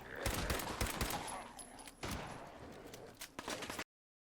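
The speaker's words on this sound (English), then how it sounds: "I'm getting shot at." Distant gunfire in rapid bursts, a fusillade of sharp cracks clustered early on, then scattered shots, with a faint high tone running across the top and no speech.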